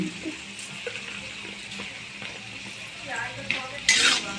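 Spoon stirring sugar into rice in a pan, with soft scraping and clinks of utensil against metal, a few brief louder scrapes near the end, fairly quiet throughout.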